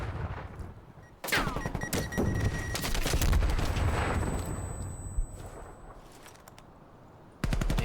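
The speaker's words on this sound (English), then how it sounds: "Will he decide to take this gunfight?" Gunfight in Call of Duty Cold War during an esports match: bursts of automatic rifle fire and sharp shots with a heavy blast, dense and loud, then fading to a quieter tail before another burst at the end.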